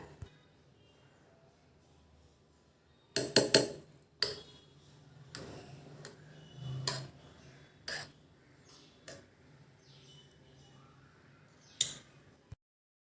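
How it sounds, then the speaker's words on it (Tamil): A spoon stirs curd into thick milk cream in a bowl, giving faint, irregular clicks and taps against the bowl with a few louder knocks and long quiet gaps in between. "இதில் இப்போ நான் தயிர் சேர்த்து கலக்கி வைக்கிறேன்."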